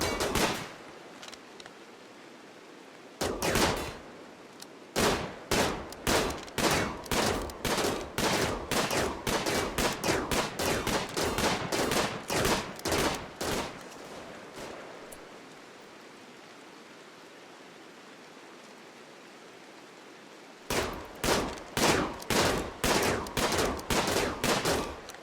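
Colonists in RimWorld fire guns in rapid, evenly spaced shots, loud and close, running as a long volley, then a pause, then another burst, with no talking over them.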